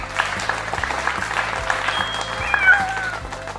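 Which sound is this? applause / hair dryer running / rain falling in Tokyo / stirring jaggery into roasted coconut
applause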